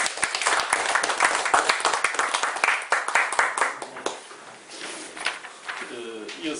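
An audience at a cooperative election law debate forum breaks into dense, steady applause that fades near the end, with speech mixed in.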